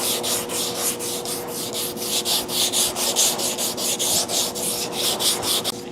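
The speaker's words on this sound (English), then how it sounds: "straight sanding." Steady back-and-forth rasp of sandpaper block sanding a car body before primer, close and loud, in a quick regular rhythm of repeated strokes with no voices.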